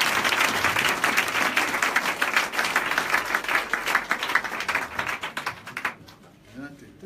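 Sustained applause fills a prayer service as a congregation acclaims the Lord, dense and loud for about six seconds before cutting off abruptly, with a voice speaking faintly under it and a brief quiet spell afterward.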